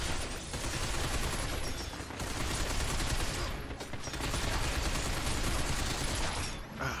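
Heavy, sustained gunfire in the Binary Domain video game, dense bursts of automatic fire from behind that run almost continuously, with brief lulls between volleys.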